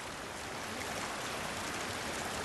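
A flowing stream rushes steadily in the video game Hellblade: Senua's Sacrifice, a broad, constant wash of water that stays loud and unbroken with no voices.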